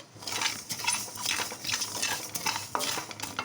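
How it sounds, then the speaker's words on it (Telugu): Dry coriander seeds rattle and scrape in a pan on a stove as they are roasted and stirred repeatedly, a close, rhythmic scratching with no voices. "నెక్స్ట్ ఇంకో స్టవ్ మీద ధనియాలు వేయించుకుంటున్నాను"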